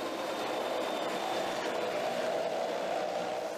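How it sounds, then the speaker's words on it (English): A Swedish Bandvagn tracked troop transport vehicle travels across Arctic terrain, giving a steady, moderately distant rumbling drone of engine and treads that holds constant throughout. "a special vehicle called a bondvang is used"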